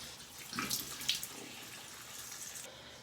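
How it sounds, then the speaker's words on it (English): Warm water runs from a bathroom tap while someone wets their face, a quiet steady hiss broken by a couple of soft splashes as hands cup the stream. "I'm gonna wet my face really quickly with some warm water."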